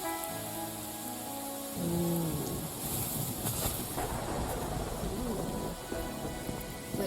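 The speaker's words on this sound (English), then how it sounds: "The rain is so moody." Rain falls steadily in the video game Wuthering Waves, a continuous soft hiss and patter that sits under a voice at the start and continues on its own.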